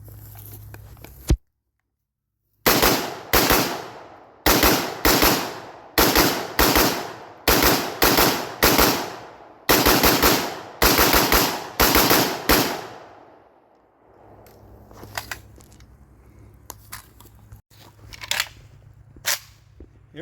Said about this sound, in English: Here we have a Colt. This is a Match Target lightweight.